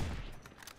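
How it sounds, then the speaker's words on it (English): A quick burst of gunfire in the survival video game Rust: a loud, booming report at the start that quickly trails off into fainter crackling. "I've somehow managed to miss 12 consecutive shots"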